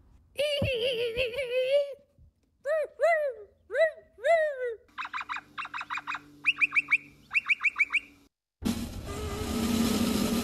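A person vocally imitates the call of a noisy miner bird, giving a run of short, sharp chirping and whistled notes in rapid bursts, fairly close and loud, followed by a brief stretch of background noise.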